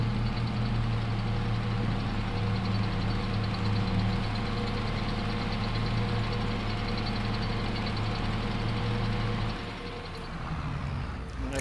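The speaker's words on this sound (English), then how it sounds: "this is a good little tractor" A small tractor engine runs in the Farming Simulator 22 farming game, giving a steady, even drone with a low hum that holds unchanged before dipping slightly near the end.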